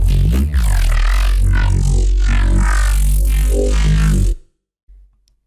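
A growling reese synth bass built in FL Studio plays loud and close, snarling and wobbling with a thick, gritty, shifting tone for about four seconds before stopping abruptly.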